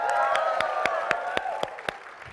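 A crowd at a Sonic the Hedgehog panel on a gaming stage claps and cheers steadily, with dense applause and sharp whoops rising above it throughout.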